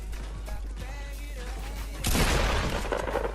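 A shotgun blast in a Fortnite-style battle royale game, played solo against duos, lands as one sudden loud burst with a crackling, shattering tail, after softer game sounds and faint effects.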